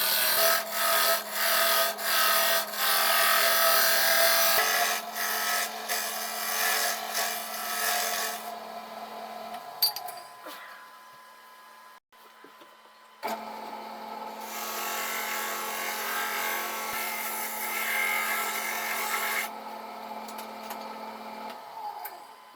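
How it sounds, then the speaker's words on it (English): A wood lathe spins as a tool turns down the bottom of a wooden cup, a steady close scraping hum that stops for a few seconds mid-way before the cutting resumes at full strength. "I decided to turn down the bottom of the cup close to the correct size."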